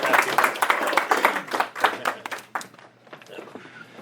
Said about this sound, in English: Everybody give them an applause.